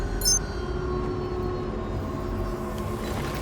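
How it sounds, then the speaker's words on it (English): Spaceship engines in the Star Citizen video game roar with a steady, airliner-like drone and low rumble, holding constant and fairly loud throughout. "I do like the sound of the engines falling down in this ship."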